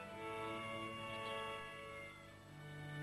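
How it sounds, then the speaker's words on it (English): An orange cat meows in a drawn-out, tonal call lasting about three seconds, fairly close and clear, with no talking over it. "An orange cat."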